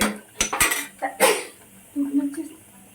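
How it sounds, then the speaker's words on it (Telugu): A lid set onto a pot of mutton keema, giving a few sharp metallic clanks and clinks close by, followed by softer rattling and a faint ringing tone. "మూత పెట్టి మీడియం ఫ్లేమ్లో పెడదాం"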